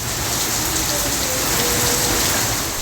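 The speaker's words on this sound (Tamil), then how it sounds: "பலத்த சூறை காற்றுடன் கனமழை வெளுத்து வாங்கியது" Heavy, steady rain pours down with strong wind during a summer storm in suburban Chennai, a dense unbroken hiss that stays loud and close throughout.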